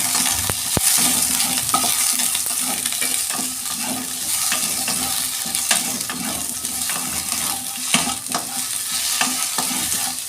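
Mango pieces hitting a small amount of hot oil with panch phoron for a Bengali chutney crackle and sizzle steadily, while a spatula stirs and scrapes the pan with frequent clanks throughout.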